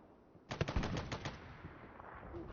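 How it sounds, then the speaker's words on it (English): MG42 machine gun in a competitive multiplayer shooter match, a short rapid burst of about six shots followed by a fading rattle, somewhat distant and fairly faint, no voices. "Ninja with his MG42 against 4 players."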